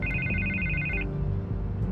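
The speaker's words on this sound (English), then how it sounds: "I can't get the phone to stop ringing." Telephone ringing in Batman: The Telltale Series, an electronic trill that repeats in steady bursts, with a pause in the middle before it starts again over a low background hum.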